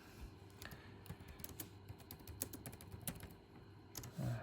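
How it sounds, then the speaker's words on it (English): Someone types on a computer keyboard, soft close key clicks in irregular runs and pauses over a low room hum, with a louder thump near the end and no talking. "this is really difficult for me to type whilst the camera's in front of me"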